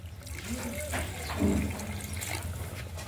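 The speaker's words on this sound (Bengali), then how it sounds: "আর এখানে আমি গরম জল নিয়েছি, গরম জলই দেব।" Hot water poured from a vessel into a pot of goat meat curry, a short gurgling splash that swells in the middle, with someone talking over it.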